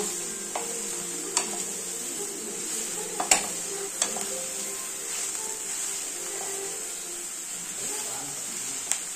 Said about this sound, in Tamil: இப்போ போட்டு நல்லா ஒரு கிண்டு நல்லா கிண்டிக்கலாங்க.